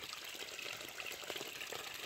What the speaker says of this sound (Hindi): ये देखिए हमारे ग्राम इंदार में बोर में से अपने आप पानी निकल रहा है।